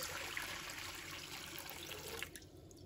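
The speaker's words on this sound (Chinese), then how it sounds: "接下来我们起锅倒入清水" Clean water poured into a wok, a faint, steady splashing stream lasting a couple of seconds before trailing off.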